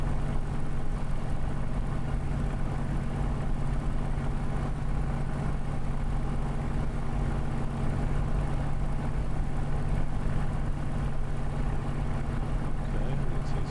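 A Spitfire's piston engine in Microsoft Flight Simulator at Goodwood gives a steady, loud, low rumbling drone that holds evenly throughout with no pauses.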